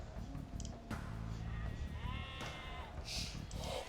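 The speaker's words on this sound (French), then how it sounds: "Là, on a vu qu'il y avait des moutons ici." Sheep in an Age of Empires II match bleat in short wavering calls, a few overlapping over the game's steady background and small clicks, fairly clear and close, with no talk.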